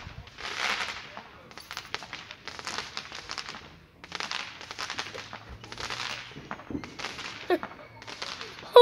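Fourth of July fireworks crackle in a string of rough bursts, each lasting about a second and separated by short gaps, moderately loud with faint background noise.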